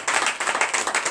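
A church congregation at a morning prayer service in Comè, Benin claps together in acclamation, a brisk, even run of claps filling the hall with steady rhythmic bursts and no talking.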